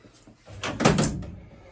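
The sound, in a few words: removable door on a G-Body car closing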